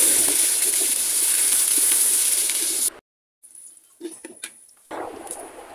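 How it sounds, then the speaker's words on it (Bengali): Cinnamon, cardamom, bay leaves and peppercorns frying with chopped onion in a pan over a clay stove give a steady, loud hiss and sizzle, which cuts out abruptly partway through and then returns in fainter bursts. "দারচিনি, এলাচি, তেজপাতা আর গোলমরিচ, এগুলো একটু ভালো করে ভেজে নিয়ে তারপরে পেঁয়াজ কুচিটা দিয়ে দিব"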